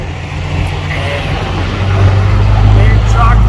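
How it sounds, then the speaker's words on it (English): A big truck rumbles past nearby, its low engine drone swelling louder over a few seconds as it approaches and goes by. "And big truck moving by."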